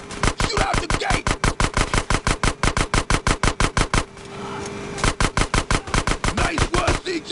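Rapid automatic gunfire from GTA San Andreas, a fast steady burst of loud shots aimed at an old sewer gate, pausing briefly before another sustained burst resumes.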